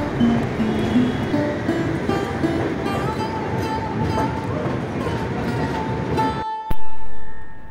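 A train rumbles steadily at night in broad, continuous noise, with a loud thump and a brief sharp tone near the end as the rumble surges.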